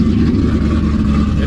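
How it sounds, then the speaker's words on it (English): Car engine idling with the exhaust unhooked and a lopey aftermarket camshaft, a loud, close, rough low rumble that pulses unevenly and continuously with no talk. "It's loud, but the exhaust is unhooked."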